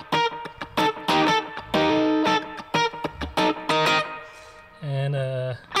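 Electric guitar played through the back two pickups with the tone turned down, giving a funky, clipped sound in short choppy chord stabs and a held low note near the end, with no talk over it.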